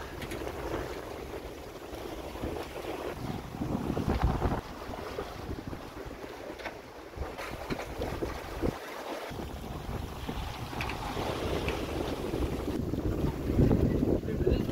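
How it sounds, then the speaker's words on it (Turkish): Steady wind and water noise on an open boat on the western Indian Ocean, with waves sloshing and the hull creaking and knocking now and then, with no talk. "Arada iyi dalgalar var. Tekneyi bir attırıyor böyle."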